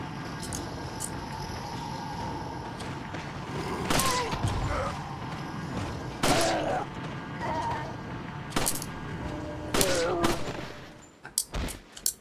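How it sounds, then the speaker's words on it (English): Gunfire in Resident Evil 4, several sharp shots spaced a couple of seconds apart over a busy game soundscape, with a player talking now and then. "Wasted a couple shots."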